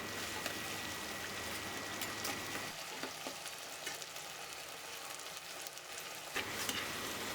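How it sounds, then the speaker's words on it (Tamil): Tomatoes, onions and green chillies sauté in a pan for Tamil fish kuzhambu, giving a steady close hiss and crackle of frying with occasional stirring scrapes. "தக்காளி, வெங்காயம், பச்சை மிளகாய் எல்லாம் ஒன்றா சேர்ந்து வதங்கி வரணும்"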